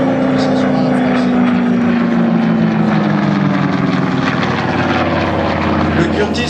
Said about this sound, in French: Steve disant à Marquis, tant qu'à faire voler un avion français dans les air shows français, que ce soit un français.